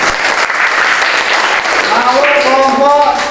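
Classroom applause for a student group, dense clapping from pupils that continues as a voice starts talking over it partway through.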